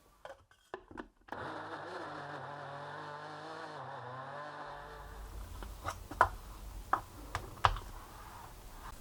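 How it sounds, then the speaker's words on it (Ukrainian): A small coffee grinder grinding roasted peanuts whirs steadily for a few seconds, then stops, followed by scattered light taps and clicks. "Перемелюємо у кавомолці у декілька підходів."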